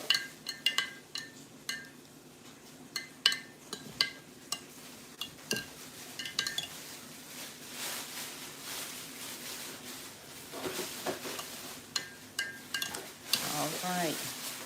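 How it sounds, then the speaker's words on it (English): A spoon stirring a container to dissolve ingredients for kefir, repeated clinks and taps against the sides with a continuous swishing hiss, close and fairly quiet throughout. "Well, we're still stirring. It's taking it a minute to dissolve."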